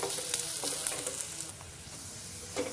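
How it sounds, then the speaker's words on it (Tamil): Onions sautéing in a pan over a medium flame for a snake gourd fry, giving a steady close sizzle and frying hiss with a few light stirring scrapes and no talking. "அதனால் கொஞ்சம் மீடியம் ஃப்ளேம்லேயே வச்சு நீங்கள் வெங்காயத்தை வந்து நல்லா பொன்னிறம் ஆகிற வரைக்கும் வதக்கி எடுத்துக்கோங்க."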